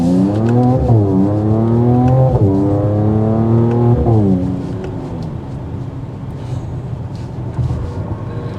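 A 2022 Mercedes-AMG GT43 pulls away hard from a red light, its engine note climbing through rising gear sweeps before easing to a steadier drone, loud and close with no talk.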